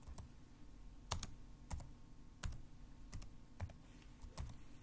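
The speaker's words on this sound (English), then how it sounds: "hitting the Enter key after each command" Keys clatter on a computer keyboard as commands are typed into a Linux terminal, with a firmer Enter keystroke closing each command. The clicks are quiet, close and irregularly spaced over a faint background hiss, with no talking.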